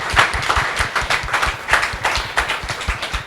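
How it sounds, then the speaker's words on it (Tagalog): Wedding guests clap for the newlyweds Nathan and Hazel at the close of the ceremony, a close, fairly sparse patter of hands with uneven bursts and no talking. "Palakpakan po natin ang mga bagong kasal"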